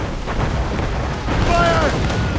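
Deep rumbling booms of ship cannon volleys in the naval battle of Assassin's Creed Rogue, loud and continuous, with a shouted voice over the roar.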